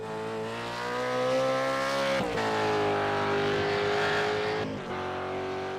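Ford Mustang V8 race car in iRacing at Suzuka, a loud, close engine note rising and holding through revs, with brief dips at gear changes as it drives on.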